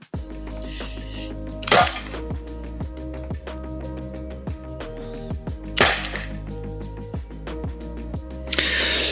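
Three sharp pops from a gas-powered revolver firing half-inch rubber balls ring out several seconds apart over a steady mechanical hum with faint clicking.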